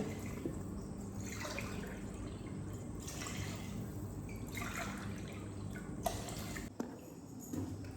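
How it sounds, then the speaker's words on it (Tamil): Water trickles and splashes as it is poured into a cooking pot for biryani in a home kitchen, a quiet steady flow heard alone. "இப்போ பிரியாணிக்கு தண்ணி வச்சுக்கலாம். 1 கப்பு அரிசிக்கு 2 கப் அளவுக்கு தண்ணி."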